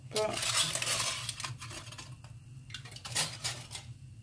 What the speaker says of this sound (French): je prends ma fourchette et je tourne. J'égrène les grains de riz.